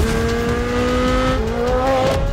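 A naturally aspirated Corvette engine drones loudly and steadily, its pitch shifting slightly as the revs change, with no talking.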